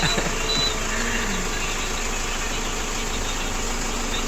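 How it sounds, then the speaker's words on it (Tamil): An Eicher truck's engine runs steadily while the truck is driven at night, a loud continuous drone with broadband rumble and no voices over it. "இந்த வண்டி நம்ம தான் ஓட்டிகிட்ருக்கோம், ஈச்சரு."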